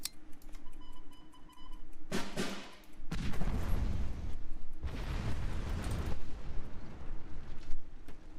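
Explosions from a tank being destroyed in the WWII card game KARDS: a sharp burst followed by two heavier, rumbling blasts, each a second or so long, over a steady game background hum.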